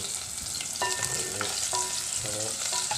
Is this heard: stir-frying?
yes